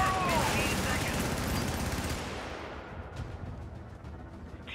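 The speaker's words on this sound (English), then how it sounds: "Let's get onto the machine gun. Jesus, this is a scatter gun." Machine gun fire in the video game Helldivers, a dense rattling burst that is loudest at the start and then thins and fades, with a voice talking over it.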